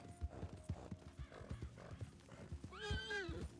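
Hooves clip-clop in an uneven rhythm while a horse lets out a loud, shrill whinny near the end in the video game Red Dead Redemption, with faint game-like background tones.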